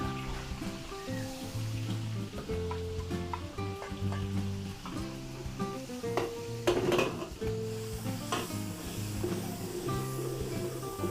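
Garlic sautéing in cooking oil and margarine in a pan for Filipino cooking: continuous sizzling under background music, with occasional clinks of utensils against the pan.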